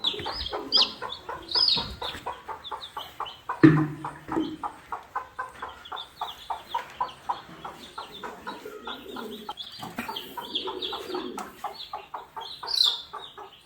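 Hens cluck in a busy, rapid run of short calls, close by, with occasional louder squawks and softer cooing mixed in.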